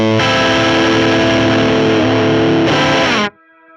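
Electric guitar through a drive effect on a Fractal Audio VP4 pedal, a loud, sustained distorted chord ringing for about three seconds before cutting off abruptly into a faint tail.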